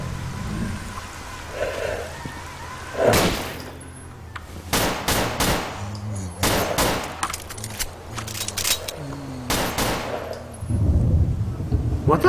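Bursts of gunfire in S.T.A.L.K.E.R. Call of Pripyat, sharp cracks and short automatic volleys spaced irregularly over a quieter ambient background, fairly close, with a voice talking in places.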